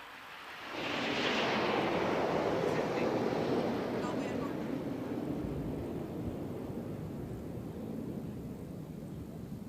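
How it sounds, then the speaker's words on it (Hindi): Hawk trainer fighter jets flying past over the sea at a naval event, a loud roaring whoosh that swells quickly and then fades into a long rumbling tail, mixed with wind noise and no clear speech. "और अब बारी है प्रशिक्षण के लिए उपयोग में लाए जाने वाले हॉक लड़ाकू विमानों की।"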